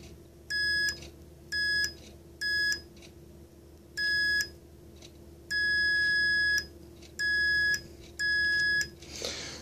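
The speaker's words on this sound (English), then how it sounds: "when I activate the switch, it beeps" A series of short electronic beeps from a Mercedes E420 throttle body on a bench test sounds in a steady, repeating pattern, one slightly longer than the rest, over a faint steady hum.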